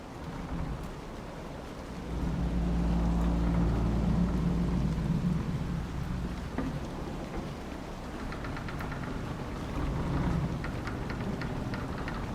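A heavy rainstorm with a low thunder rumble in the Dragon Age Inquisition video game: a steady, dense hiss of rain runs throughout, with a deeper swell of thunder in the middle and no talking.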